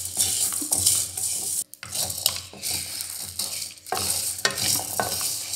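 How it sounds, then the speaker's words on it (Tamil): Mandi spice mix stirs and dry-roasts in a pan over low heat, with steady scraping and rattling of a spoon against metal and a faint sizzle, close and continuous with brief pauses. "சிம்மிலே வச்சுக்கிட்டு நீங்கள் இந்த மாதிரி கிண்டி விட்டுக்கணும்"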